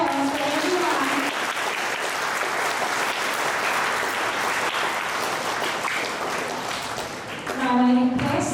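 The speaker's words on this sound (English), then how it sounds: "give a huge round of applause for everyone" A friend-circle gathering breaks into a huge round of applause, steady loud crowd clapping lasting several seconds, with a voice speaking briefly at the start and again at the end.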